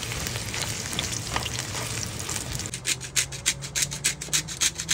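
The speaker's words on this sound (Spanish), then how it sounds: "aquí terminando cocinando unas colas de langosta" Lobster tails cooking in a pan, a steady close sizzle that turns into a run of quick rhythmic scrapes, roughly a dozen strokes of a utensil across the pan, in the second half.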